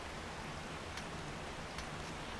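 Steady rain hiss in the survival game 7 Days To Die, a soft, even wash of noise with faint patter and no voices.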